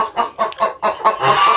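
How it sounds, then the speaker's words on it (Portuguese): A hen that lays blue eggs clucks close by in a quick series of loud, choppy clucks, rising into a longer drawn-out squawk at the end. "Essa galinha aqui é ovo azul"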